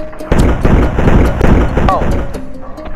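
Magnum gunshots from the Ravenfield video game, a series of loud, sharp close-range blasts in quick succession over about three seconds, with a voice talking over the shooting.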